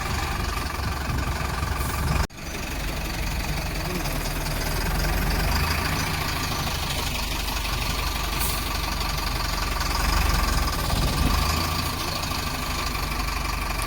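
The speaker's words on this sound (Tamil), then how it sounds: "அன்லோட் பண்ணுறது பாருங்க." A tipper truck unloading a load of M-sand, its heavy diesel engine idling in a steady knocking rumble close by, constant and fairly loud for the whole stretch with no talk.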